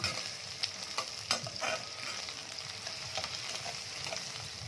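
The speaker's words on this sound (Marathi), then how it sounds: "आता ही शिमला मिरची आपल्याला छान फ्राय करून घेऊया" Capsicum and spring onion stir-frying for veg hakka noodles: a steady sizzle with scattered clicks and scrapes of a spatula against the pan, close and moderately loud, with no voices.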